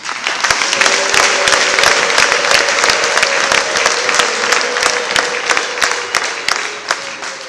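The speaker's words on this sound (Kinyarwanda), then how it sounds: "dufashe twongere dushimire Imana tuyikomera amashyi" A crowd at a church choir performance applauds steadily, many hands clapping loudly and continuously from start to finish.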